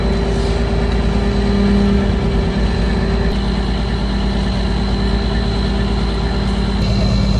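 A tractor engine runs loud and steady while pulling a wrecker out of a ditch, a continuous heavy drone with a constant tone and no talk over it.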